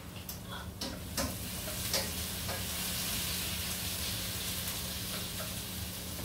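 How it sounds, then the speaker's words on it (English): Peppers sauté in a hot pan over a gas flame, giving a steady close sizzle and frying hiss with a few faint clicks and stirring sounds throughout, no talking. "I'm going to saute them until they're a little bit fork tender and a little bit soft."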